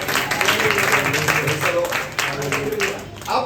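A church congregation clapping hands together in a steady, dense wash of applause, with voices mixed in throughout.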